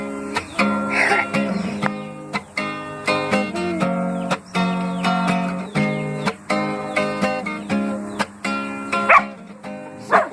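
A dog giving a long string of sharp, yippy barks and whimpers close by, rhythmic and loud, with almost nothing else around it.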